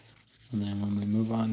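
Opal stone pressed to a spinning polishing wheel during pre-polishing, kept moving at different angles: a steady whirring rub with a strong low hum that starts abruptly after a quiet half second and holds evenly to the end.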